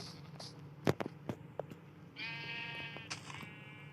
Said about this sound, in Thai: ผสมพันธุ์แกะแค่นี้แหละ